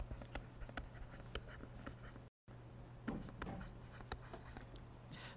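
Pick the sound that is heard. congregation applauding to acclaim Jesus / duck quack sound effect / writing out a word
writing out a word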